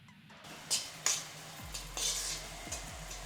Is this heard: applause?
no